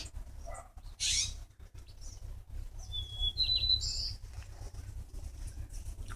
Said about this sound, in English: lot of birds out here again today.